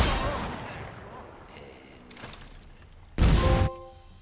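Sniper rifle fire in Metal Gear Solid Delta, a single loud, sharp shot near the end followed by a ringing tail, after quieter game ambience and a small thump.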